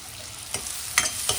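Red and yellow bell peppers, capsicum, sweet corn and onion sautéed in a pan: a soft steady sizzle broken by three distinct stirring scrapes and knocks.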